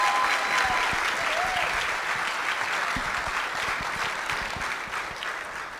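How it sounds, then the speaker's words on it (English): At a Spokane County Lincoln Day political dinner, a large audience applauds with dense, steady clapping that holds loud throughout and tapers slightly toward the end. "Let's give her a warm round of applause"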